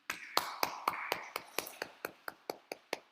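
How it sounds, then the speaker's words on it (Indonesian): A small group of schoolchildren clapping hands in a rhythmic, evenly spaced beat during a grade four civics lesson held online, about a dozen crisp claps, fairly close. "Tepuk tangan buat kita semua."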